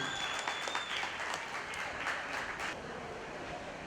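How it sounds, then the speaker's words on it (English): Applause from a county fair livestock show crowd, a steady patter of clapping that fades slightly toward the end, heard at a moderate distance. "let's give her a big round of applause"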